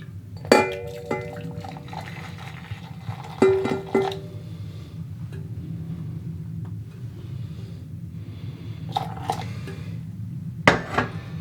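Kitchen sounds of Demerara sugar syrup being made with boiling water: a few sharp clinks of a utensil against a pot or jug at intervals over a steady low hum, with no talking.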